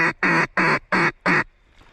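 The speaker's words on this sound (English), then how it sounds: "Oh, ducks, a bunch of them." Five loud, evenly spaced quacks from ducks on a rainy Alabama hunting opener sound close by in a quick rhythmic series, then stop, with no talk.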